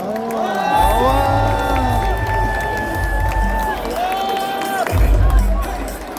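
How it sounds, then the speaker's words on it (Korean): Crowd at a Democratic Party primary festival in a convention hall cheers and shouts, with whoops and a busy, loud babble of many voices rising and falling over about six seconds, amid announcer-style speech. "뜨거운 박수로 맞이해 주시기 바랍니다"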